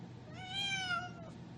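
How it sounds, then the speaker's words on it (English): A shimmering cat character in a video game gives a single clear, rising-then-falling meow of about a second, close and distinct over a faint background hum. "Shimmering cat with riddles."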